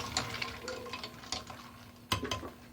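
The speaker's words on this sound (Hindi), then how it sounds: "चम्मच से मिक्स करेंगे।" A spoon stirs almond sharbat with ice in a glass, giving a run of light, irregular clinks and taps against the glass at close range, with no one talking.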